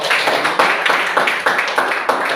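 Classroom applause for a student group: many hands clapping together in a steady, dense burst, fairly close and loud, with a few voices mixed in.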